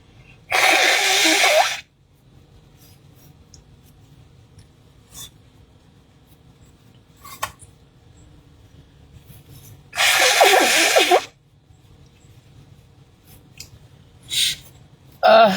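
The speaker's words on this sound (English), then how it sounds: "I'm going to blow my nose real quick." Two loud, forceful nose blows a few seconds apart, each lasting over a second, separated by quiet rustling and small clicks, with a short snort near the end.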